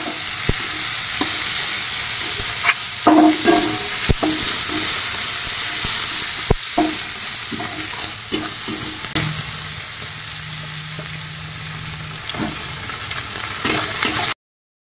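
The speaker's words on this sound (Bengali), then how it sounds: "এখানে পেঁয়াজ রসুন ভাজা হয়ে গেছে।" Chopped onion and garlic, with sugar and whole spices, sizzle steadily in hot oil in a pan, with intermittent clinks and scrapes of stirring up close throughout.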